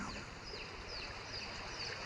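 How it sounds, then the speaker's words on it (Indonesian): Faint, high chicks peeping in short repeated chirps over a steady background hiss. "suara anak ayam itu pun semakin terdengar sangat jelas"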